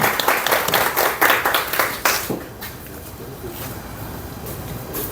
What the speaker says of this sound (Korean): 그럼 박수 한번 크게.